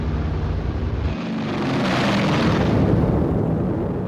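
Incendiary bombs dropped by B-29s explode over wooden houses in a 1945 raid on Tokyo, heard as a loud, continuous roaring rumble of blasts that swells and holds for several seconds in an archival recording.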